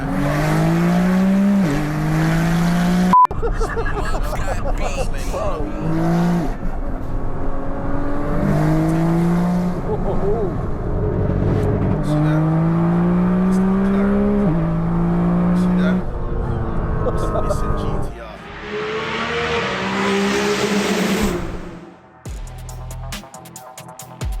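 A 2000 hp Nissan GT-R accelerates hard through second gear, its engine note climbing steadily in pitch for about twenty seconds with loud, continuous roar, briefly easing near the end before revving again.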